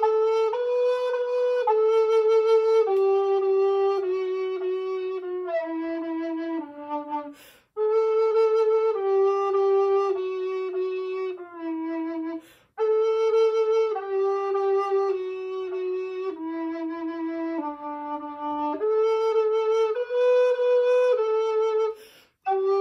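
A tenor recorder plays a slow melody alone, with clear sustained breathy notes stepping up and down in phrases separated by short pauses.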